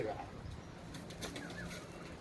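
A pigeon flaps its wings as it takes flight during a chase, a faint, brief fluttering burst heard from a distance against quiet outdoor background.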